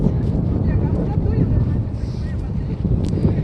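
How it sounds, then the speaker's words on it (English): Strong wind batters the microphone outdoors, making a loud, constant low rumble and buffeting that continues without pause. "It's because It's too windy."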